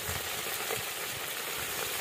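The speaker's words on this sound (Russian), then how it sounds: "После того, как обжарили немножко крылышки, добавляем имбирь и чеснок." Chicken wings frying in a kazan with ginger and garlic, a steady crackling sizzle of hot oil throughout, close and moderately quiet, with no one talking.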